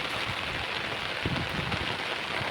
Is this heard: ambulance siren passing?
no